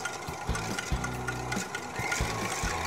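Electric hand mixer beating egg whites for a burger soufflé, a steady motor whir with harmonic hum that surges and dips in short bursts as the beaters move through the bowl, close and continuous.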